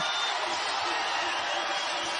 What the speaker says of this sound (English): And that crowd and the Hawaii fans getting loud.